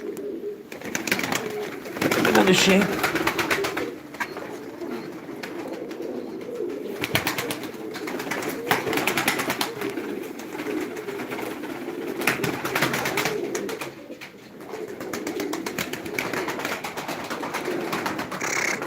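Iraqi naked-neck pigeons in a backyard coop near a house coo repeatedly in soft rolling bursts, with a brief spoken remark mixed in among the calls and steady background noise.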